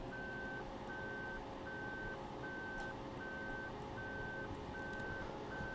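Military-style truck being moved in Farming Simulator 2015, with a steady low engine drone and a regular reversing beep repeating evenly throughout.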